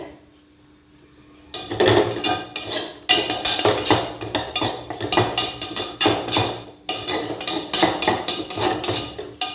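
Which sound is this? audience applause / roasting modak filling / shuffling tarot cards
roasting modak filling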